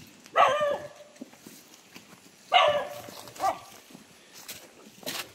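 A dog barking outdoors on a mountain, with two sharp, fairly close barks a couple of seconds apart, a softer follow-up yelp and faint background noise between.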